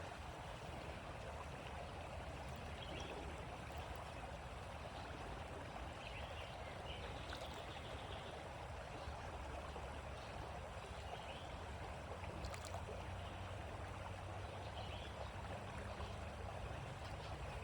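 Water pours and splashes steadily as a sample bottle is filled and rinsed for a dissolved oxygen test, a continuous broadband trickling wash close by with no talk.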